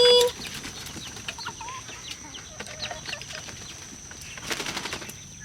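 Chickens clucking around a Texas farm yard, several soft scattered clucks and calls at moderate distance after a brief louder sound at the start, with a quick flurry of activity near the end.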